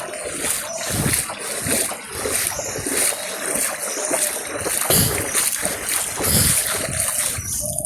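Floodwater rushing through an overflowing drain in a waterlogged area, a continuous loud splashing and gushing flow that surges in uneven waves.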